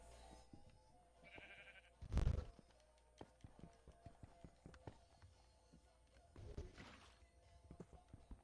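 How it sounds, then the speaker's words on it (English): A Minecraft sheep bleats in the game, a short mid-pitched bleat among quiet clicks and footsteps, with a heavy thud and a second fainter bleat later; faint voices are present. "Oh, that's a sheep"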